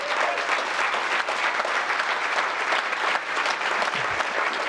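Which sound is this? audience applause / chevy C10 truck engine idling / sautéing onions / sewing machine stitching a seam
audience applause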